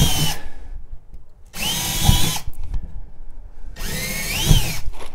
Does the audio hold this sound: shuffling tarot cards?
no